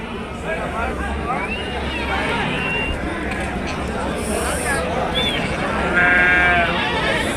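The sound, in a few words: sheep bleating at livestock market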